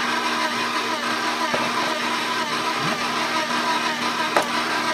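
An electric mixer blends cheesecake batter with flour and liquor-soaked orange zest, whirring in a steady, close mechanical drone with faint scraping clicks.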